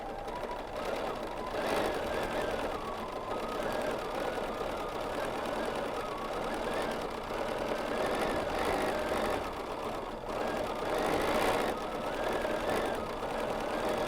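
BERNINA sewing machine free-motion quilting placemats, a fast continuous needle hum with brief pulsing swells as the stitching speed shifts.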